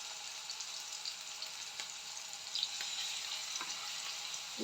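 Leftover meat frying in a pan for shawarma, a soft steady sizzle with a few faint clicks and taps of utensils, close and low in level, with no talk.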